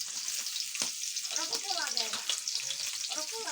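Onions fry in hot oil with a bright, crackling sizzle, stirred as they cook, the busy spitting sound continuing throughout at close range.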